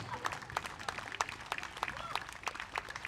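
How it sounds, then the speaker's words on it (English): Sparse, faint clapping from a crowd at a youth baseball and softball championship as a volunteer is honored, a scattering of separate hand claps heard from some distance in an outdoor setting. "Yeah, give a round of applause."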